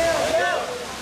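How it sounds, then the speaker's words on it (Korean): A waterfall pours with a steady broadband rush, fairly loud and close, while a person's voice is heard over it. "폭포 아랫부분만"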